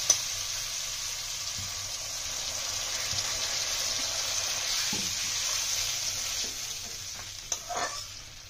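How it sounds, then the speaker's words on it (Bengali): Water added to a pan of pabda fish curry sizzles and hisses steadily from close by, with soft stirring clinks and a few small splashes near the end. No one speaks. "জল দিয়ে দেবো ঝোলের জন্য।"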